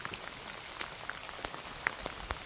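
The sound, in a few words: rain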